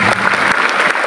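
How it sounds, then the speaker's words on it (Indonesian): Congregation applause at a church revival service, a brief burst of lively, dense clapping from a crowd. "Tepuk tangan yang paling meriah"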